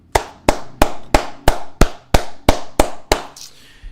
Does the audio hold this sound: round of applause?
yes